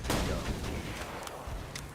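A deployed turret fires in a Borderlands game, producing a dense, continuous barrage of booming gunshots and blasts with rumbling impacts, loud and close throughout.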